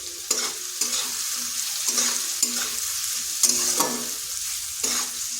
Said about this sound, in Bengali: এটাকে এইভাবে 5 থেকে 7 মিনিট মিডিয়াম টু স্লো আঁচে ভেজে নিতে হবে।